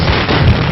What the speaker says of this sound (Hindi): पटाखे फोड़ो।